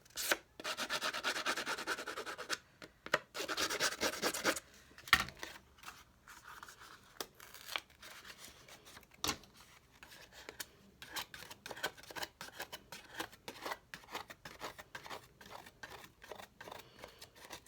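Side of a pair of scissors scraping along paper bag edges to distress them, a series of dry rasping strokes in short bursts, close and fairly quiet, with pauses between the passes.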